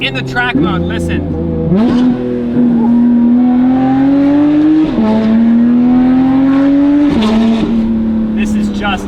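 Porsche 992 GT3 RS flat-six with titanium race exhaust in track mode, loud and close, revving with rising and falling pitch sweeps and sharp gear-change dips, with people talking faintly underneath.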